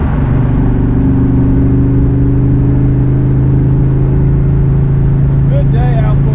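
A Fox Body Mustang convertible cruising on the road, its engine droning steadily and loudly from inside the car without a break.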